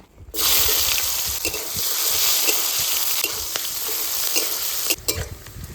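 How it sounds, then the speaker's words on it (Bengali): Chopped onion sizzles loudly in hot oil seasoned with dried red chilli and bay leaf, a steady close frying hiss with scattered stirring clatters, while crab and pomfret curries are being cooked. "কুচানো পেঁয়াজটা একটু ভেজে নিয়েছি"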